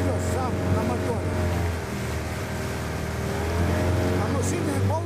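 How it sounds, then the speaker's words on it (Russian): A small outboard-motor boat running on a river in Yakutia, its steady engine drone and hum continuing throughout at moderate distance, with wind noise and faint background voices. "это в реке плывет сам на моторе"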